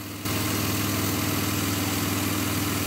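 A Toyota 1FZ engine catches and settles into a steady, even idle, a close, loud low rumble with a regular pulsing throb that runs on without change.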